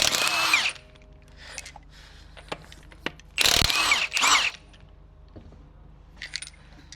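A cordless impact tool spinning lug nuts off a Nissan LEAF wheel, with short loud buzzing bursts, a rattling metallic clink of a nut, and quieter handling noises between, close by.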